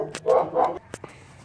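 Two dogs at a homemade dog house give a couple of close, loud barks followed by a few softer yips, all within about a second.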